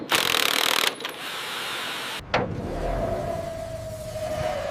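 Bolts are tightened with a ratchet on an M1 Abrams tank in a factory: a rapid buzzing mechanical clatter, a brief pause, then a sharp clack and a sustained whirring tone, close and fairly loud, with no speech.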